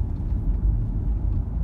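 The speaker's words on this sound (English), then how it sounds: "I'm gonna leave the car running." A car engine left idling produces a steady low rumble that stays loud and close throughout, with no talk over it.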